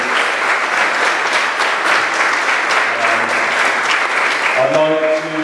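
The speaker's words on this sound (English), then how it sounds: "put a big hand together for our volunteers for this season" A room full of people at a Coventry United club awards night claps loudly and steadily for the season's volunteers, with a voice starting to speak as the applause fades.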